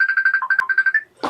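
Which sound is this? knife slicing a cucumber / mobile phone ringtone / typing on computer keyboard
mobile phone ringtone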